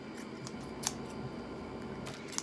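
Scissors snip through fur trimmed off a shoe, a few crisp cuts standing out over a steady background hum with no talking.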